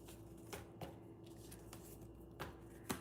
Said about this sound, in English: shuffle the cards, clear the cards